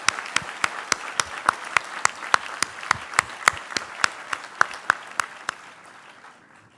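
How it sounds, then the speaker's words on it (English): Clapping for award winners at a university convocation ceremony, led by one close, crisp clapper in a steady, even beat of about twenty claps over softer crowd applause, which fades away afterward. "Please join me in applauding these award winners."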